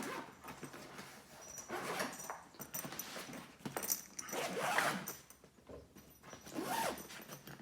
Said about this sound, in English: I'm just gonna unzip everything.